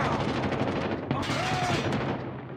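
AK-47 fire in Call of Duty Modern Warfare comes as a loud, rapid automatic burst of close gunshots filling the whole moment, with a brief metallic clatter partway through.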